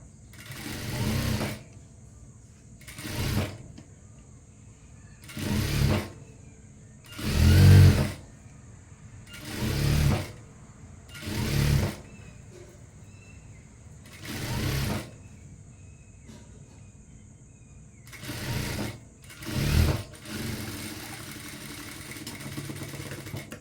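An electric sewing machine stitches a girl's uniform coat in about ten separate short bursts, each a loud whirring run of a second or so, with quiet gaps between them as the fabric is repositioned.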